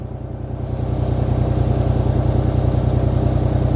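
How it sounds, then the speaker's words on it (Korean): A Kobelco 1.2-ton mini excavator's diesel engine idling loudly nearby after warm-up, a steady low rumble with a rhythmic throb that grows slightly louder after the first moment. "자, 엔진 소리 한번 들어보세요."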